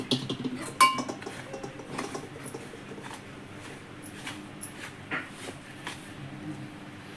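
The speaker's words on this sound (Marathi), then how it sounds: "तो रवा आहे आणि दही. आता हे सगळं एक मिक्स करून घेऊ." Semolina and yogurt being mixed by hand in a wide metal mixing plate for rava medu vada, with soft scraping and occasional light clinks of utensils against the metal, fairly quiet and steady.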